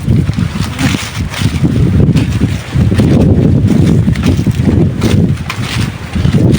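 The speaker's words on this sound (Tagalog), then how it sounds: "Malakas yung hangin." Strong wind buffets the microphone in loud, rumbling gusts that swell and ease repeatedly, with no talking.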